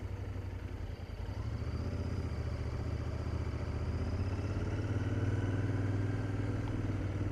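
A Royal Enfield Interceptor 650 motorcycle engine runs in town riding, a smooth, steady low drone with faint mechanical clatter that swells slightly toward the end.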